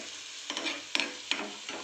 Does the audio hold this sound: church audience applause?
no